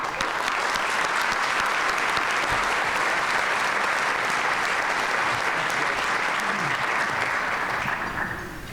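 Loud, sustained clapping from a luncheon audience at the 2022 State of the City event, a thick even roar of hands that runs throughout and tapers slightly at the end.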